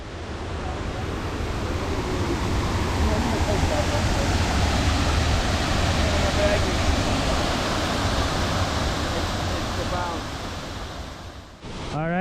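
A massive waterfall in a Veracruz rainforest, heard up close as a loud, constant roar of rushing water that holds steady, then briefly dips before a short voice near the end.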